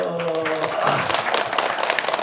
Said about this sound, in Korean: 이는 반가운 박수 소리가 아니야